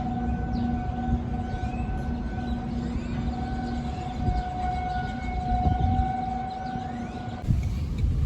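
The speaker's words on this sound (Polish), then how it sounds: "tornado, syreny wyją, bo idzie tornado w naszą stronę" A steady, sustained tornado warning siren in Texas drones from a distance, holding its pitch over rumbling low background noise before cutting off abruptly near the end.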